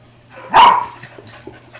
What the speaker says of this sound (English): Go bark back at him.